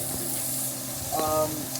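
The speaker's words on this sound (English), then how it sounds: "start by putting the butter in there, and you want to get it to where it's like boiling, almost like really bubbly, like carbonation." Butter sizzles and bubbles in a pan, a soft steady crackle with a brief clink of a utensil near the end, close and fairly quiet.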